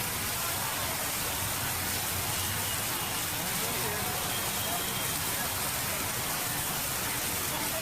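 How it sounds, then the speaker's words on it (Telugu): Heavy rain falling across Hyderabad neighbourhoods such as Miyapur and Gachibowli, a dense, steady hiss of downpour that stays constant and broadband throughout, with a low rumble underneath. "మియాపూర్, గచ్చిబౌలి ప్రాంతాల్లో భారీ వర్షం కురుస్తుంది."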